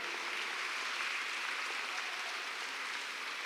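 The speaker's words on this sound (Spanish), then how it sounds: "un aplauso fuerte para nuestro Dios" A church congregation claps together in praise during a service, a dense, even wash of applause sustained throughout, moderately loud and without any voice over it.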